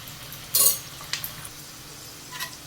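Okra (ladies finger) for a spicy masala fry frying in a large pan, with a soft sizzle beneath a few sharp clinks and scrapes of a utensil stirring, loudest near the start, then sparse light taps.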